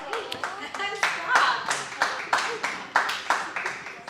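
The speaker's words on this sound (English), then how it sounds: "Like 2 people clap." A few people clap sparsely in a room, a thin scatter of uneven claps rather than full applause, with a voice speaking briefly near the start.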